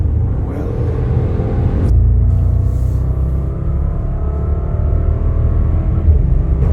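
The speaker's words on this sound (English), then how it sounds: "how the Bentley Bentayga speed would feel with its W12 engine" A 2021 Bentley Bentayga with its W12 engine gives a steady, deep rumble while accelerating, with a slight shift in tone partway through. The engine stays close and loud throughout, and no one speaks.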